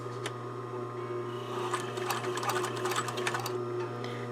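A sewing machine back stitches a quarter-inch blouse sleeve seam, its motor humming steadily before a short run of quick, rattling needle strokes, close and alone.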